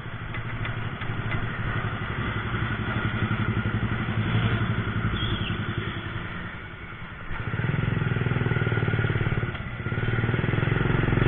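A Honda C70 racing motorcycle engine runs close by with a steady mechanical putter and clatter that dips briefly in the middle, then swells louder toward the end.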